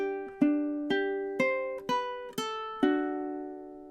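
Ukulele plucking measure 31 of a song, six clear single notes in a steady even rhythm, each ringing and decaying, played alone, quiet and close.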